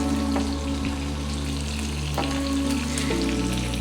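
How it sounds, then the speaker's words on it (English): Black sea bass fries in a hot skillet, giving a steady, loud sizzle with small crackles and pops throughout and a slight shift partway as the fish settles in the pan. "So I just take this into our nice hot skillet, drop it down like it's hot"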